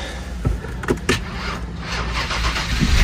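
A flood-damaged Ford car powers up and its engine turns over, with loud close mechanical whirs and a few sharp clunks or starter bursts over a steady rumbling drone.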